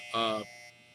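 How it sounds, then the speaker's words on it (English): A clothes dryer's harsh electronic buzzer sounds briefly at a steady pitch, then gives way to a faint lingering hum. "wow, that was an extremely long dryer buzzer"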